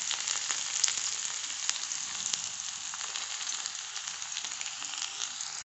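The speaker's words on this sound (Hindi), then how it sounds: "तेल गरम हो गया है। आप डालेंगे प्याज लहसुन मिर्चा।" Onion, garlic and chilli sizzle and fry in hot oil for a leafy saag dish, a steady close, loud crackling hiss running unbroken with a few sharper pops and no talk.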